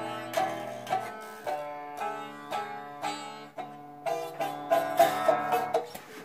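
Acoustic guitar, likely out of tune, strummed in about a dozen ringing chords at a steady pace, each strum decaying before the next, loud and close with no talking.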